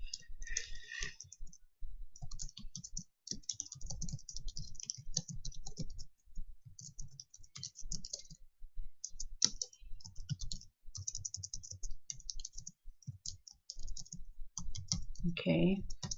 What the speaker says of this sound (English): the first thing I'm going to do here is just type something in here about myself.